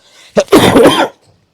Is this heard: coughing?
yes